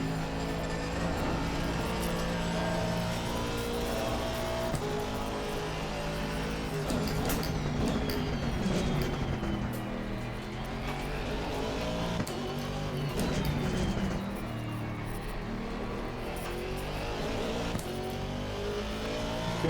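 An Aston Martin V8 race car from Assetto Corsa Competizione at Silverstone roars steadily throughout, its engine note rising and falling through gear changes and throttle, loud and continuous with no talk.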